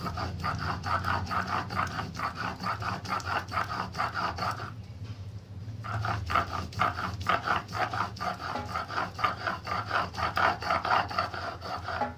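A knife slits open a pointed gourd and its seeds are scraped out, a continuous rhythmic rasping close by that breaks off briefly midway and then resumes.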